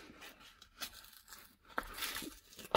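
A tape-sealed Amazon book package is torn open, with irregular ripping and crinkling of tape and cardboard in short quiet bursts, no voices.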